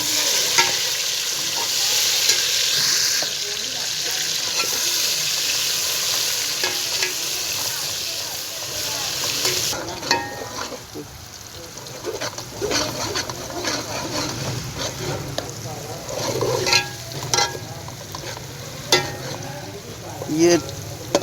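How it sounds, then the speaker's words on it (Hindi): Tomatoes hit a pan of browned garlic and fry with a loud, steady sizzle that eases after about ten seconds into quieter crackling with occasional stirring scrapes. "अब हम इसमें टमाटर डालेंगे। ये हमने टमाटर डाल दिए।"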